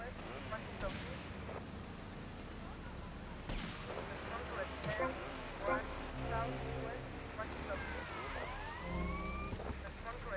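A police car siren in the video game GTA Vice City wails in rising and falling sweeps among heavy booming gunfire and engine rumble, loud and continuous throughout.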